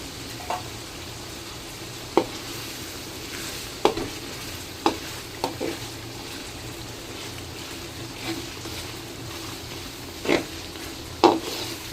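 Chopped capsicum frying with tomatoes in a pan for pav bhaji, a steady sizzle broken by the repeated scrape and tap of a spatula stirring, close by with no voices.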